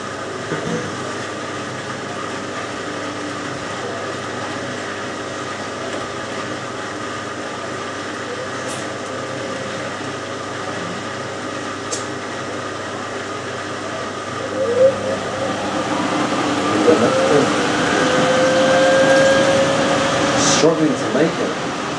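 A washing machine ramping up to a 700 RPM spin, a steady mechanical whir and hum that builds louder toward the end with rising pitch, heard up close with a voice talking over it.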